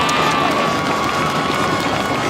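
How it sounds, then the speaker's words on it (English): Dense, steady roar of a home crowd cheering for the Southeast Seminoles at a varsity high school football game against the Wesley Chapel Wildcats, loud and continuous throughout with no pauses. "The crowd is hyped up for the Southeast Seminoles"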